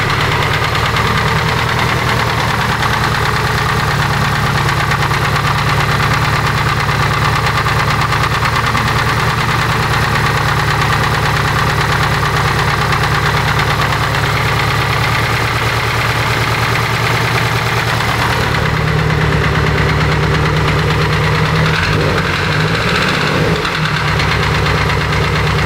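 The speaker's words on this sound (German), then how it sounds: "Der Motor läuft ziemlich unrund, ne?" Car engine idling roughly and unevenly, a loud, continuous close-up drone with a faint knocking pulse and a slight change in tone near the end, with no talking.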